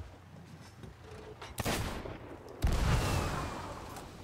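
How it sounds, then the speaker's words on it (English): Two deep cannon booms from the pirate game Sea of Thieves, the second louder and heavier, each trailing off in a rumbling decay over ambient game noise. "Why are you shooting a cannon?"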